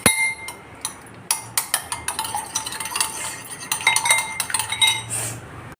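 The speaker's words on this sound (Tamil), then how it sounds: "இதை வந்து நல்லா நம்ம அடிச்சுக்குவோம்" Eggs and onions for a Spanish omelette are beaten in a bowl with a utensil, making quick, irregular clinks and scraping taps against the bowl that come close together and loud.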